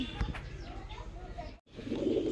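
Red male pigeons coo softly in a short, quiet burst, with a brief gap near the end and speech-like murmuring mixed in.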